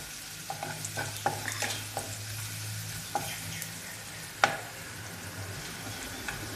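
Chili powder frying for an egg fry sizzles steadily in a pan while a spoon stirs and scrapes against it, giving sharp intermittent clicks and taps over the continuous close-up sizzle.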